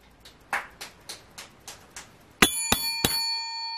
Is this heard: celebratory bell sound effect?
yes